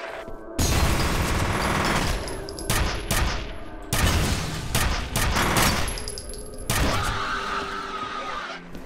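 Rapid bursts of automatic gunfire from the shooter game F.E.A.R., loud and dense, with sharp repeated shots and booming impacts filling most of the span and brief gaps between volleys.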